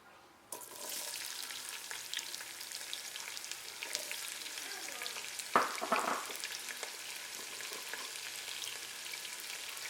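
Chopped onion with a little salt sizzles steadily in a pan, a close, even frying hiss that starts abruptly and carries on, broken by a louder stir or scrape partway through.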